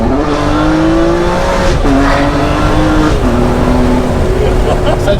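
A Ferrari 599 GTB's V12 sings loud and close, its tone rising through the revs and dropping at each gearshift, the sound bouncing back off a nearby wall; voices talk faintly over it.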